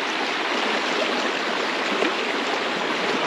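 The Parappathara river in Kerala rushes along in a steady, dense flow. The water sound is loud and close and fills the whole stretch, with no voices.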